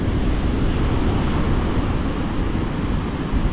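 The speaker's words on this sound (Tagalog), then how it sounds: "Sobrang lakas ng hangin." Strong wind roars steadily across the microphone at the beach, a dense rushing blast with the wash of surf beneath it and no voices.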